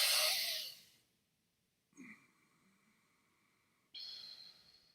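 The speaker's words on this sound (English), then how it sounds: "you do a breathing of a double breathing and then exhale." A person demonstrates double breathing up close: a sharp inhale, a pause, then a second, longer drawn-in breath, followed by a breathy exhale, all quiet and close with no talking.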